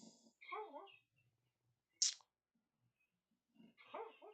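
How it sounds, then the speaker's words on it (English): A sleeping dog dreaming indoors in a bedroom gives two short bursts of muffled whimpering yips, separated by a sharp click and near silence, close and fairly quiet. "My dog, she's in my room and she's dreaming."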